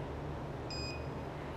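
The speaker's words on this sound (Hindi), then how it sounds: "तो ये बीप कर रहा है।" Sherlock multimeter in diode/buzzer mode giving a single short, high electronic beep of about a quarter second over steady background hiss.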